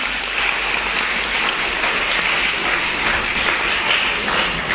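A seminar crowd gives a sustained round of vigorous clapping, a thick, even roar of many hands with no voices rising above it.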